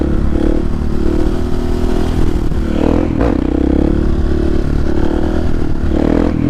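A Husqvarna 701 supermoto motorcycle engine runs loud and close throughout with a steady mid-pitched drone, small shifts in revs and some clattering from the bike; no talking.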